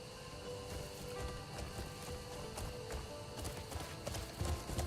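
Quick, rhythmic hoofbeats of a galloping horse in the video game Crimson Desert clatter continuously over a hissy, rain-like background, the pace steady and fairly faint throughout.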